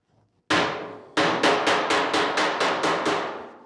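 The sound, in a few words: hammer striking steel panel off the dolly to correct warping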